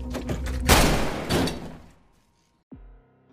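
A loud, sharp burst of bangs like gunfire in a film scene, then a fading rumble and a brief low thud at the end.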